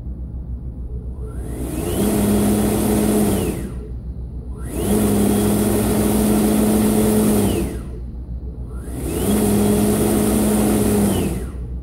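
An electric vehicle motor from a college STEM project revving past 6,000 RPM, rising to a steady high whine three times with brief drops between, loud and close with no talk.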